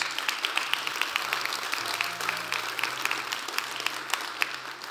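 A church congregation gives a hand clap, a sustained burst of crowd applause with sharp individual claps standing out, steady and fairly loud for the full stretch.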